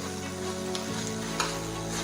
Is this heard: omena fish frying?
yes